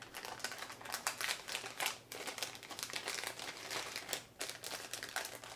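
A small 4x6 cellophane bag is handled up close while shaped crayons are packed into it, giving continuous crisp crinkling and rustling in irregular bursts with brief pauses, loud and nearby, with no talking.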